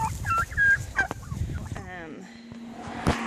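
Farm turkeys gobble close by in a few quick, rattling bursts during morning chores, mixed with other fowl calls and some shuffling movement.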